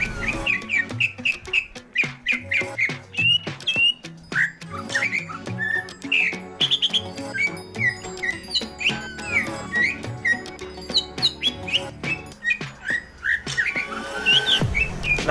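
A green leafbird sings continuously, bright varied chirps and whistled phrases tumbling over one another, close and fairly loud, with no talking.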